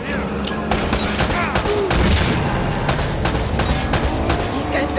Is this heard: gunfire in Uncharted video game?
yes